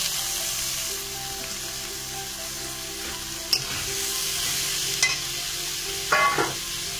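Onion, ginger and tomato sizzle steadily in a hot pan, with a spoon stirring and occasional scraping clinks close by, no voices over the frying.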